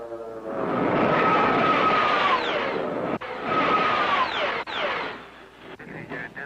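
Military jet fighter aircraft roaring loudly overhead in two long sustained passes with a descending whine, the engine noise swelling and fading between passes, then tailing off quietly.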